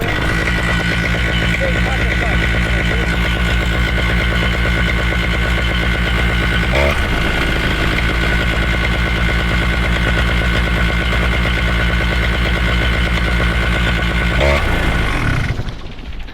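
A small two-stroke paramotor engine runs steadily at a fast idle set too high, buzzing loud and close with a constant pitch, briefly dipping twice before cutting off at the end.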